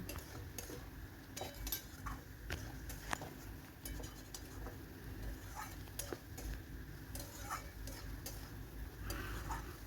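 A pot of ivy gourd curry with chana dal is stirred with a utensil, giving faint, irregular scraping and clinking taps against the pot over a soft background hiss, with no talking.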